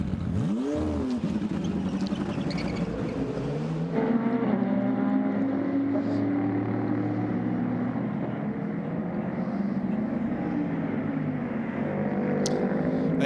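A WRT BMW race car's engine starts and settles into a loud, steady idle in a pit lane during an endurance race in Qatar, with a rising whine at the start and a constant rumble throughout.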